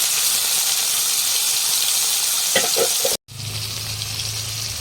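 Onion dropped into hot oil with panch phoron, a steady broad sizzle of frying that swells as the pieces hit the pan, followed by a brief cut and a lower, continuous crackle.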